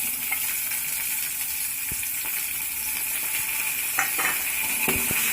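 Onions dropped into a hot pan with fried lentil dumplings for a bhadel saag dish, a constant loud sizzle with a few sharp scraping strokes of stirring near the end.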